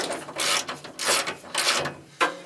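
A wrench cranking down a bolt on an engine valve part during a two-valve drag build swap, with several ratcheting bursts in uneven rhythm, close and fairly loud.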